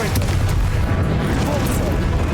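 A Confringo spell explodes in Hogwarts Legacy, a heavy, booming blast with rumbling low crackle, loud and close amid busy game sounds, with a voice calling out.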